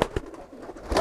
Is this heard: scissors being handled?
no